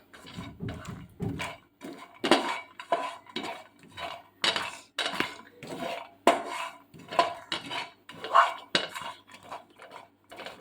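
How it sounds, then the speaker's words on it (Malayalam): Roasted makhana (fox nuts) stirred in a pan, with a steady run of loud, close scraping and clinking strokes from a utensil against the metal, roughly one every half second. "റോസ്റ്റ് ചെയ്ത മക്കാന ഇട്ട് കൊടുക്കാം നന്നായി ഇളക്കി കൊടുക്കാം"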